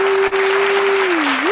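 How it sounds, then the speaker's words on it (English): Dense, steady applause fills the moment, with a sustained tone running underneath that dips and rises near the end. "Hit me with an applause or something."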